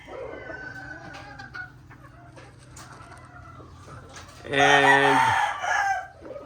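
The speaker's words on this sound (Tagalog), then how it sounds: "They're gentle birds." Golden Monkey Sweater chickens cluck softly and close by, then a rooster crows loudly near the end, with a brief spoken word early on.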